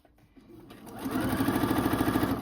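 A sewing machine runs at 2.5 stitch length while back stitching a tote bag, with a short pause before the steady, rapid stitching picks up and continues close and loud.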